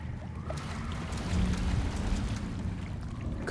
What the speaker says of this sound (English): It's lowering the water again.